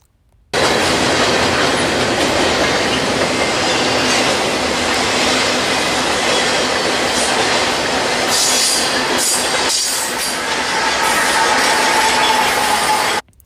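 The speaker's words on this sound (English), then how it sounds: "I like how the bell on the Santa Fe is ringing throughout the clip." A Santa Fe-led train rolls past at an Amtrak rail safety event, its bell ringing throughout over a loud, steady, close rumble and clatter of wheels that lasts nearly the whole stretch.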